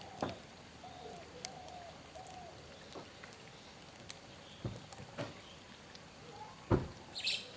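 Myna birds and squirrels call in a Valparai forest in the morning, with scattered short chirps and sharp clicks, some brief coo-like notes and a few louder snaps, set against a soft steady outdoor background and no voices.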